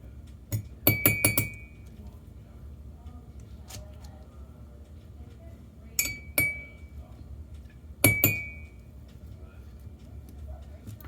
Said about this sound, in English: And I'm sorry for clinking the cup